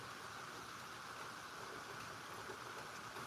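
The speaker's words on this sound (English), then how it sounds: "You can hear it's raining around me." Rain falls outdoors during a thunderstorm, heard as a faint, steady, even hiss of drops throughout with no voices or other distinct sounds.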